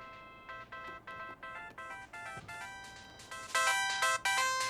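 Electronic phone ringtone in the anime NANA, a melodic chiming pattern that repeats in short bursts, growing louder and brighter near the end, heard clearly with no talking over it.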